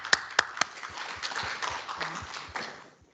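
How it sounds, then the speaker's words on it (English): A conference audience claps for a speaker, a few sharp isolated claps first, then light, scattered applause from a modest crowd that tapers off after about three seconds. "let's give a round of applause to Lauren"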